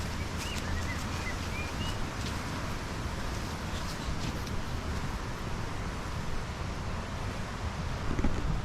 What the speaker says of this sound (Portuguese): Essa cachoeira é linda demais.